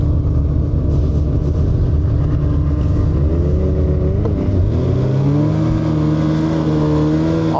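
A Polaris snowmobile engine roars loud and close while riding, its steady drone rising in pitch as the throttle opens partway through, with no talk.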